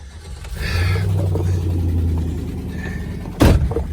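A truck engine turns over and settles into a steady low rumble, close and fairly loud, with a brief louder burst near the end.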